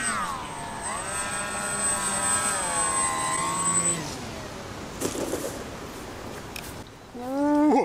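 MiniTalon FPV model plane comes in to land, its electric motor whining in high tones that sweep down and level off, then cut out amid rustling bumps of touchdown before a brief rising whine at the end.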